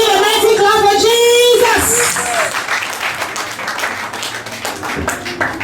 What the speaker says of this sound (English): give a mighty clap